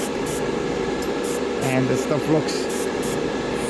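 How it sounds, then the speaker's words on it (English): Spray can of chrome paint hissing in light bursts onto a plastic Gundam RX-78-2 1/144 model kit, a steady broadband spray beneath someone talking throughout. "Just a nice light spray of the chrome"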